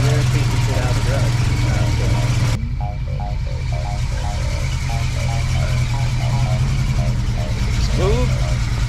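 A BMW E30 M-Tech engine runs at a steady idle nearby, a continuous mid-pitched rumble under people talking.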